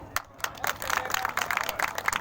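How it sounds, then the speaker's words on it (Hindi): A crowd at a toll plaza gathering applauds itself, starting with a few scattered claps that quickly thicken into steady, moderately close applause, with some voices mixed in. "एक बात तो ताली बजा लो अपने लिए"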